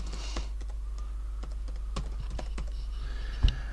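Keys on a computer keyboard tap out text in scattered, crisp clicks over a steady low electrical hum, with one louder knock near the end.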